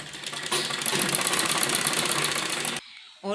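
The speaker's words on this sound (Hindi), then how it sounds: "इस तरह से हम इसके चारों तरफ सिलाई लगाएंगे फोल्ड करते हुए।" Electric sewing machine stitching a satin baby frock, a steady continuous mechanical whir running for a couple of seconds before stopping abruptly, followed by a brief rustle of fabric.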